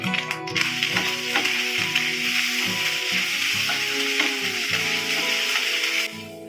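Mashed taki fish fries in a pan with onion and garlic, crackling in a steady sizzle while a spatula scrapes and stirs in repeated strokes, close and alone, ending abruptly.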